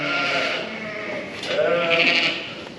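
Pet lambs and sheep bleating indoors in a lambing shed, several overlapping loud bleats that run on through the clip and rise toward the end, close by.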